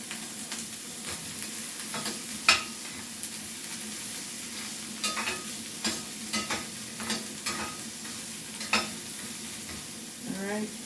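Flounder fillet frying in olive oil in a pan, a steady close sizzle with intermittent scraping and stirring clatters scattered throughout, no talking.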